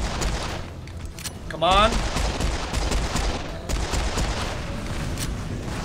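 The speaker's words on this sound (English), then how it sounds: "I'll just shoot him with my pistol" Dense rapid gunfire from the shooter video game Serious Sam 4 rattles on throughout alongside explosive game effects, with a brief rising electronic chirp. A player's voice is heard briefly.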